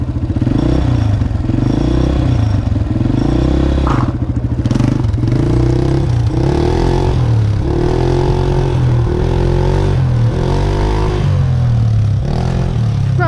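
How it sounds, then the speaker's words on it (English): A motorcycle engine, likely small with studless tires, revs up loudly in repeated climbing bursts and pulls away, with a rattling, clattering mechanical undertone throughout, no voices. "when you want to take off again, rev it and just let it go"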